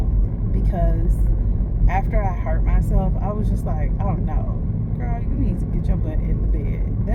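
A car drives along at night with a steady low road and engine rumble running throughout, while someone talks over it almost the whole time.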